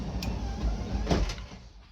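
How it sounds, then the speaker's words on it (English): A Modifero automatic door slides and closes all the way, giving a low mechanical rumble with a couple of faint clicks and a brief knock near the middle, then settles; nearby and moderately loud, with no talking. "So what you have to do is actually just make sure you shut the door all the way."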